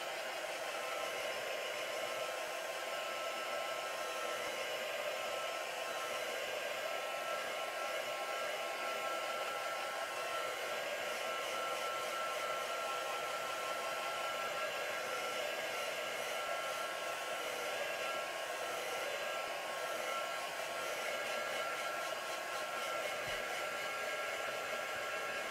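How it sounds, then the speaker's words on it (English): A hair dryer runs steadily close by, blow-drying a card journal page in a craft session, a constant whooshing whir with no break for the whole stretch and no talking. "Give that a quick blow dry."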